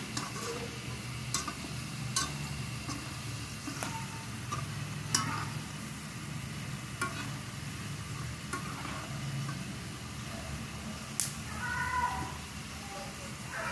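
Peanuts fry in hot oil while being stirred, giving a low continuous sizzle with sharp scattered crackles and spoon clicks at irregular intervals.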